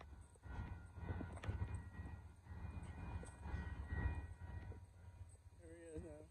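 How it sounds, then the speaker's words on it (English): The southbound Amtrak Texas Eagle 21 passenger train rumbles past at Dittmar Road in Austin, Texas, pulling onto a siding, with a steady low roar and rattling wheels, a horn-like tone sounding near the end. "Here comes the southbound Amtrak Texas Eagle 21 to pull on the siding for these coming trains."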